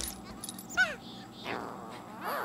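A pet dog in The Sims 3 gives a few short whimpers and yips at moderate volume, with quiet game sounds underneath and no talking.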